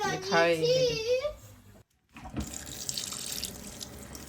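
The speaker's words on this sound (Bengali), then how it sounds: "শাকগুলোকে ধুয়ে নিচ্ছি একটা একটা করে ধুচ্ছি অনেক সময় অনেক পোকা থাকতে পারে" A kitchen tap runs steadily while leafy greens are washed one by one. The water is close and continuous, starting after a short pause, and someone talks before it comes on.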